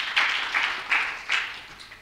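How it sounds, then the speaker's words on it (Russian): A short burst of audience applause after a conference talk, many hands clapping in uneven waves that swell and fade several times, moderately loud with no talking. "Пожалуйста, аплодисменты."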